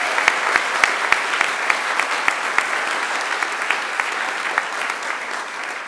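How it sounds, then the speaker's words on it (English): An audience at a university graduation ceremony claps steadily for an opera singer, a dense, sustained applause with sharp individual claps on top that eases slightly toward the end. "join me again in a roaring round of applause for her"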